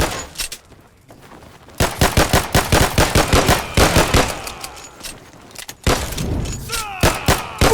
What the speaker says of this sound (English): Guys, they keep shooting.